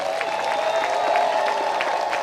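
Steady applause from a large crowd at an outdoor statue dedication ceremony for Dawn Staley on Assembly Street, dense overlapping clapping sustained evenly throughout, with faint crowd murmur underneath.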